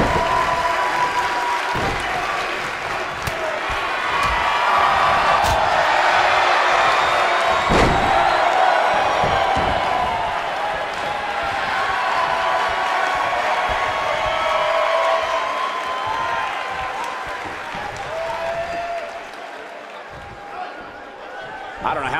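A virtual arena crowd in the WWE 2K19 wrestling game roars and applauds steadily throughout, punctuated by loud ring slams and thuds, with a commentator talking over the din.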